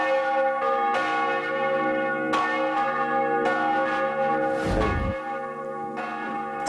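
Large church bells in Žigmund's tower in Košice, including the heavy Divine Heart bell weighing over 1500 kg and the lighter St. Andrew bell, toll loudly and close, strikes ringing out with long humming overtones.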